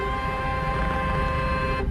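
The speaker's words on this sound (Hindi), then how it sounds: "थोड़ा सा हॉर्न बजा दीजिए" A car horn blares in one long, steady honk lasting nearly two seconds, loud and close, cutting off abruptly at the end.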